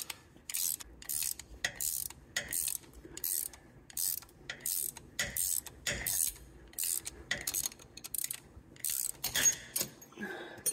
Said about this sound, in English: This is pulling that needle bearing right out.